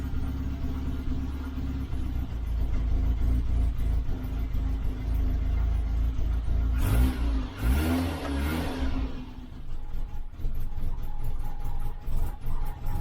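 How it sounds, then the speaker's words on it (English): The A-Series engine of an Austin Allegro idles with its choke pushed in, a steady low rumble close by, with a brief rise in engine noise in the middle. "Ah, she's still going. No choke, Danny."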